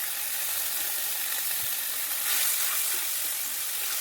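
Masala spice paste for pabda fish curry sizzles in hot oil, a steady close frying hiss that swells briefly midway, with faint stirring scrapes and no talking.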